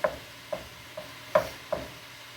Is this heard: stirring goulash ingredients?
yes